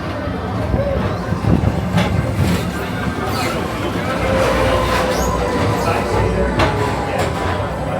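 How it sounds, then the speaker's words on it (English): The Tomorrowland PeopleMover ride train at Magic Kingdom rolls along with a steady rumbling whir, while a voice and faint crowd chatter carry over the top. "your express train keeps on rolling through the future"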